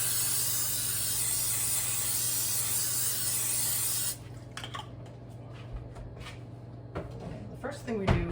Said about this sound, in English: We're going to take our baking dish and spray it with some non-stick cooking spray.